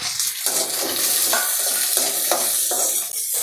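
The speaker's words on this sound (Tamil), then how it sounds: "இந்த அளவுக்கு வெங்காயம் வதங்கினதும் இஞ்சி பூண்டை சேர்த்து நல்லா இதில் வதக்கி விடுங்க" Onion, ginger and garlic sautéing in hot oil for a spicy mutton gravy, a loud continuous crackling sizzle broken by repeated spatula strokes and scrapes against the pan.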